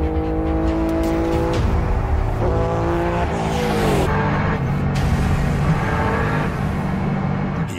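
A twin-engine streamliner motorcycle roars loud and close on a land speed record run, its engine note rising and falling unevenly as it struggles to rev cleanly near 209 mph, with steady wind rush.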